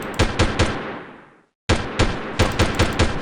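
Gunfire in Delta Force, three sharp close shots ringing out into a long fading echo, a moment of silence, then a fast run of loud repeated shots.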